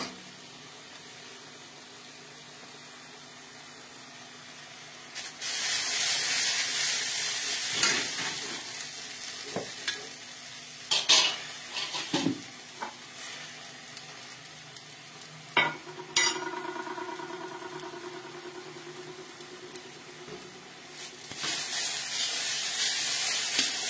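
Masala is sautéed in a pan until the oil separates. After a quiet start, a loud sizzle rises, with repeated sharp scrapes and clatters of stirring and a brief hiss near the end. No one speaks.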